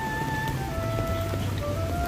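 Rain falls steadily at a seaside promenade on a rainy morning, a soft continuous hiss with low rumbling background and faint tonal hums running through.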